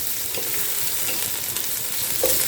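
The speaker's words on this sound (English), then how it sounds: "I'm going to be adding my cut up celery and shredded carrot, and that's now going to saute all together as well" Cut celery and shredded carrot sauteing in a discolored cast iron pot for ukha fish soup, giving a steady, close, fairly loud hissing sizzle with a couple of faint stirring taps and no voices.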